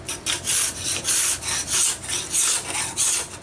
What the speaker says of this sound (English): Then I'll come back over with a scraper.